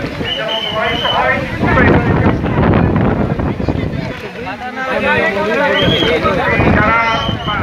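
Strong storm wind rushes and buffets the microphone at an outdoor religious gathering, its roar rising and falling under someone talking loudly through the sound system.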